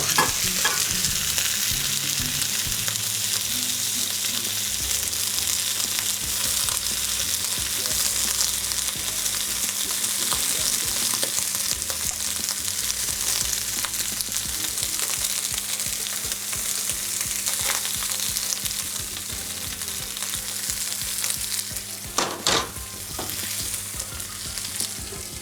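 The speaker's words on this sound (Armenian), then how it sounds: "Եվս մեկ անգամ շրջենք" Food sizzles steadily in a hot pan while being stirred, a continuous close frying hiss with occasional scraping and clinks from the stirring utensil, no voices.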